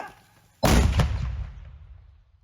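One sharp, booming artillery cannon shot at the front line bursts out after a quiet moment, followed by a rumbling echo that fades off.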